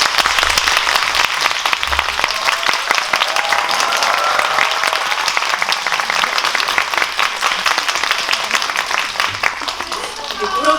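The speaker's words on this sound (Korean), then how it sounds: "큰 박수 부탁드립니다." Sustained loud applause fills a cinema auditorium at a film Q&A event in Seoul as the director and actor take their seats, with thick continuous clapping from a large crowd and faint voices beneath it.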